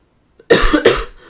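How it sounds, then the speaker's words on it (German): A man gives two quick, loud coughs close to the microphone in a quiet room, the second right after the first, with a brief throaty trail at the end. "Sorry für den Huster."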